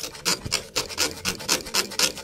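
Rapid back-and-forth rasping of a blade cutting metal inside a pipe, regular strokes about four per second, close and fairly quiet.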